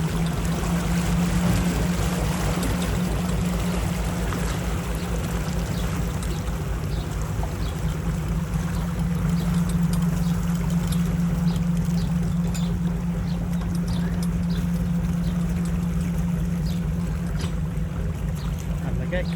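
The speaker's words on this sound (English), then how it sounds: "Let me prop wash around the gate." A boat idles at a canal lock gate, its propeller churning water around the gate: a steady low engine drone with a rushing, washing swirl and some wind noise, continuous throughout.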